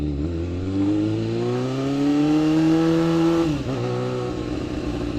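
Suzuki Bandit 250 GSF V motorcycle being ridden, its engine revving steadily and climbing in pitch, then briefly dropping off near the end before picking up again, loud and close with no talk.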